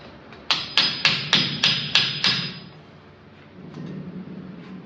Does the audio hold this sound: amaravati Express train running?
no